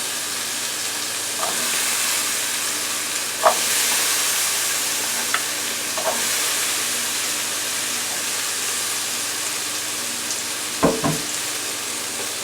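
Four cut-up white potatoes fry in a pan for a stir fry, producing a steady, even sizzle with a few faint clinks and a sharper utensil knock near the end.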